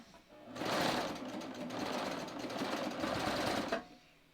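Serger overlock machine stitching across fabric at a garment neckline and shoulder seam, a loud close steady mechanical whir lasting about three seconds before stopping abruptly.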